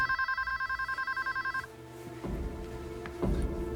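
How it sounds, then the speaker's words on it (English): An electronic phone ring at a bank trills in rapid pulses for about a second and a half, then stops, followed by room noise and soft handling sounds. "I gotta get the phone."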